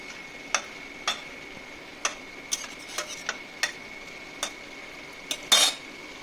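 Spoon scraping and tapping against a pot or bowl as red chili powder is mixed into chicken, a run of sharp, close clinks spaced irregularly, with a busier clatter near the end.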